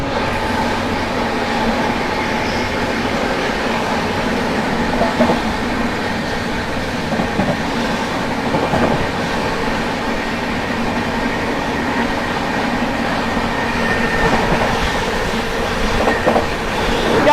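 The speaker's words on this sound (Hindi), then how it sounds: "लूप में खड़ी है कोई तो ट्रेन एंड ओवरटेक कर रहे हैं मगध एक्सप्रेस को।" Aboard a moving train in India as a West Bengal Sampark Kranti Express overtakes the Magadh Express standing on a loop line: a steady, close rumble with rail clatter and faint wheel clicks runs throughout, with no voices.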